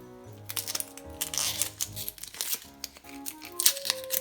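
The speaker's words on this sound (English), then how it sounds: "So let's cut up the onion." A knife slicing through an onion on a cutting board, with a run of crisp, close cuts and crunchy snaps over steady background music.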